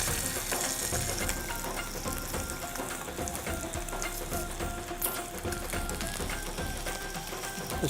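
Chicken cafreal frying in a pan over a low flame, a steady close sizzle with scattered crackles and faint scraping throughout.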